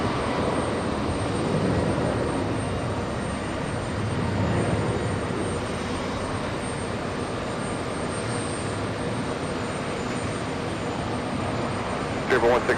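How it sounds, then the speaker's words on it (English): Embraer E175 jet pushing back at JFK airport, a steady broadband engine roar and rumble held at an even level throughout, with no voices. "now we have the E175 pushing back."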